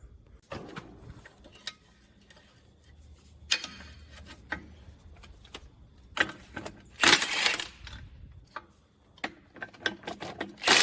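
A hand ratchet clicks in short bursts while loosening bolts on farm equipment outdoors before wheat sowing, with metallic clanks and handling noises between turns.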